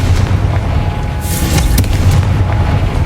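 A blasting fire spell from a Hogwarts Legacy game bursts in a loud booming explosion with rumbling low end and a sharp crack partway through, set against continuous game ambience.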